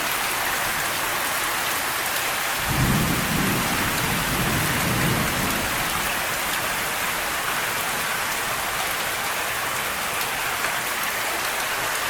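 A severe thunderstorm in Saginaw, Michigan, with a steady wash of heavy rain throughout and a low rumble of thunder rolling through early on, no voices.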